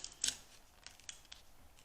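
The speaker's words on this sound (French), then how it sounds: "On va découper." Scissors snipping through a paper sleeve by hand, one crisp cut followed by a few lighter, quieter snips spaced out over a couple of seconds.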